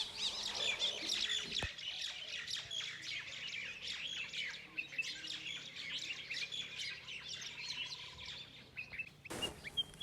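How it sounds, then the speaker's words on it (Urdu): A small bird sings a steady stream of high chirps and twitters outdoors, fairly close, with a sharp knock near the start and another near the end. "یہ چھوٹا سا پرندہ دیکھیں کتنی خوبصورت آواز نکال رہا ہے"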